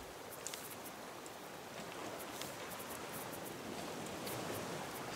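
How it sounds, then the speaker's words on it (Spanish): Steady, soft rain falls in the survival game Raft, a broad, even hiss of drops with a few faint taps and no voices. "Está lloviendo."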